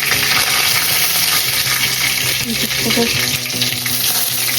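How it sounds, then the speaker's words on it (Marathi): Cumin, mustard seeds and curry leaves sizzle loudly and steadily in hot oil for brinjal bharit, a close, continuous crackling fry with faint stirring clinks underneath. "जिरं, मोहरी, कढीपत्ता ते टाकले"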